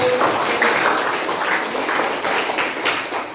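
Applause from participants at a training session on generative AI: a steady wash of many hands clapping for a few seconds, even and moderately loud, with no voices over it.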